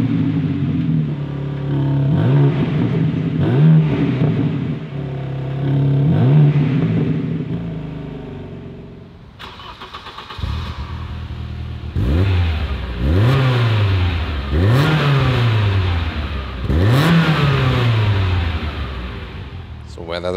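A BMW M3 3-liter twin-turbo inline-six engine revs loudly up and down in a series of sharp bursts, close and powerful, settling between blips.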